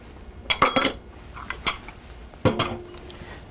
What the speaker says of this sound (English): And these just get creamed together until they form a homogeneous paste.